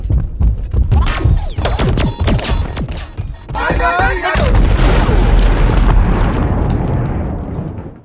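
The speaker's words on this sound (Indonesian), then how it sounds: "Terjadi ledakan, menghancurkan salah satu tank." A tank is destroyed by an explosion in an action film: after busy clattering and mechanical noise, a loud broadband boom erupts midway and swells into a long, heavy rumbling roar that slowly fades.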